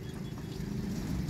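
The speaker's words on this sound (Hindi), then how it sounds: "ये ट्रैफिक जा रही है शादरा चौक की तरफ" Road traffic heading toward Shahdara Chowk near a flyover construction site, a low, steady rumble of passing vehicles at moderate distance with no distinct individual events.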